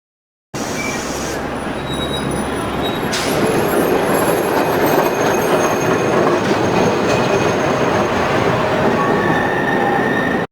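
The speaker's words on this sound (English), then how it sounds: "Tram." A tram rolls past loudly and up close, with a steady rumble of wheels on rail and faint squeals of metal.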